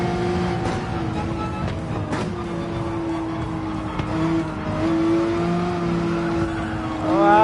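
McLaren race car in Gran Turismo 7 at the Red Bull Ring, its engine holding a steady sustained drone with small pitch shifts and a rising rev at the end, loud and close throughout.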